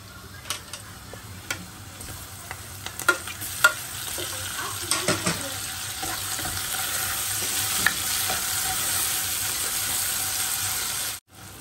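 Chopped tomatoes frying in a pan with ground spices, a steady close sizzle rising gradually, punctuated early by sharp ticks and scrapes of a spoon stirring, no voices.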